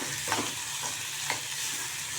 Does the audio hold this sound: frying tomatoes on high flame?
yes